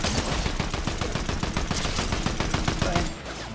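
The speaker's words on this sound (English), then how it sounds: "I'm getting shot from somewhere else." Rapid automatic gunfire in the video game Fortnite, a dense continuous burst of loud shots with a few brief pauses, ending in a quieter tail.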